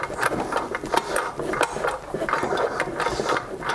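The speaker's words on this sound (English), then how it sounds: "All those governor gears are coming apart in there" Broken governor gears inside a Briggs & Stratton engine on a Murray push mower make a rapid, continuous rattling click, close and fairly loud.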